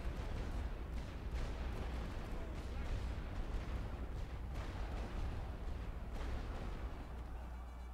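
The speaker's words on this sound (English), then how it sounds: "Oh no, these guys are shooting." Continuous rumbling gunfire and distant artillery-like booms in a WWI Western Front battle video game, dense and steady throughout with a heavy low-end roar.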